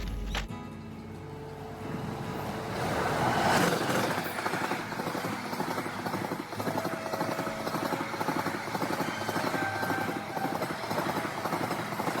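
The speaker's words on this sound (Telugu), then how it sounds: "మనకైతే రెండు ట్రైన్లు వచ్చినాయి అనమాట ఒకేసారి" Two trains cross the Pendurthi railway bridge at the same time, building to a loud, continuous rumble with rhythmic wheel clatter that carries on to the end.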